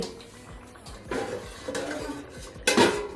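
Mutton curry being stirred in a pot with a spatula, giving scraping, clinking metal strokes against the pot in a few irregular bursts, the loudest near the end, with no talk.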